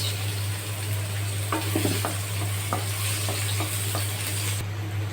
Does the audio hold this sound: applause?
no